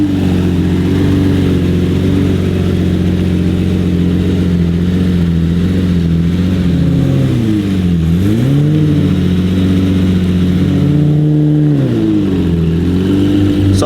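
A Lamborghini Murcielago LP640 with a full IPE exhaust drones loudly and close, holding a steady deep engine note with two brief revs that dip and rise again.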